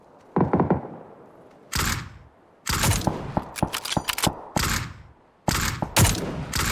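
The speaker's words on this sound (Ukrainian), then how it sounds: "Ще десь справа по ньому стріляють" Bursts of rapid gunfire in the video game PUBG crackle in several clusters, sharp and loud, with brief quiet gaps between the volleys.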